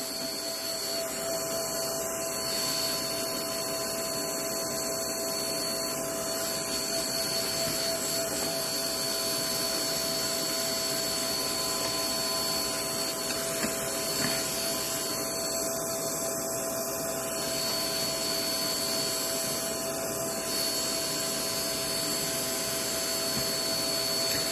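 Heat tool blowing steadily while drying a stamped paper craft piece, a continuous close whir with a high whine that holds level throughout, no speech.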